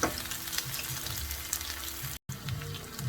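Onion sautéing in a pan makes a continuous soft sizzle with faint stirring, broken by a very brief dropout near the end.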